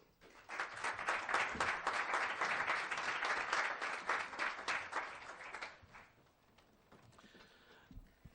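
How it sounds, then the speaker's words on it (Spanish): Sustained applause from an audience, many hands clapping steadily for several seconds before fading out. "Un aplauso para él."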